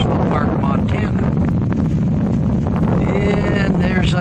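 Strong wind buffets the microphone at Waterton Lakes National Park campground, a loud, continuous rumbling roar with gusty fluctuations throughout.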